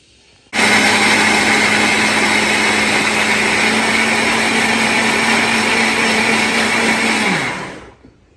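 A mixer grinder runs continuously, grinding soaked upma rava with salt and cardamom into a fine paste. It starts abruptly with a loud, steady high-pitched whir and a constant motor hum, then spins down near the end. No speech is heard.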